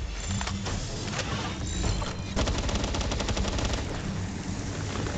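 Rapid bursts of gunfire rattle through a Palworld gaming session, dense overlapping shots filling the whole stretch with brief changes in intensity.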